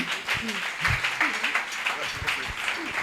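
Church conference audience applauding and cheering as a prophet is called up, a lively crowd of claps with raised voices and shouts mixed through it, steady and fairly loud throughout.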